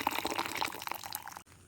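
Hot water poured into a bowl of sliced cassava, a brief splashing, gurgling pour heard up close that stops sharply after about a second and a half.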